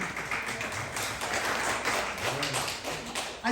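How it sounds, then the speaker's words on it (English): An audience claps steadily for a few seconds at a health talk, a dense, even patter of hands that fills the room, with a louder burst right at the end. "Clap for them."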